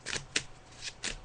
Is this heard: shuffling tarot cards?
yes